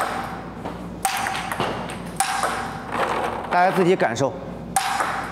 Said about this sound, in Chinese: 我再给你们打两个，大家听一听它的支撑力，它的底劲，包括出球的声音效果